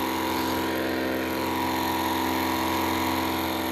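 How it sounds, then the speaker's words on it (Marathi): A drum barrel pump engine runs steadily at close range in a sugarcane field, its loud, even drone and hum continuing unbroken throughout with no voices. "बॅरल पंप आहे."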